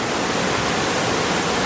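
Water rushing over slippery rocks at a stream crossing on a hiking trail, a loud, steady, broadband roar filling the whole stretch without pause.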